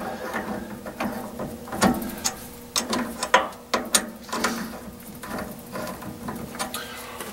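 Ratcheting mechanical clicks from the jaws of a Grizzly G0602 lathe four-jaw chuck being adjusted, with irregular bursts of metallic clatter and ticking, close and moderately loud, with no talk.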